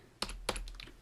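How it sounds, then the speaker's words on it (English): Typing on a computer keyboard: a couple of crisp, close key clicks followed by a few lighter taps within about a second, heard alone. "And then I type in data table"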